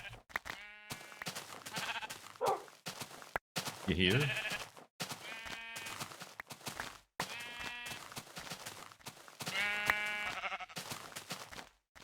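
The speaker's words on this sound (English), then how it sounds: "A lot of sheep." A large herd of sheep bleats repeatedly, with many overlapping calls near and far, some loud and drawn out, and someone briefly speaks between them.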